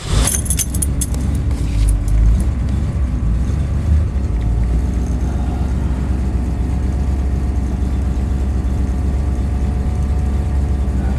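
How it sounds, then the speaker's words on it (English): A 1972 Ford Gran Torino Sport is started: a brief burst of clicks and jangling gives way to a loud, steady low engine idle that runs on without a break. "Start it up, see all the gauges working."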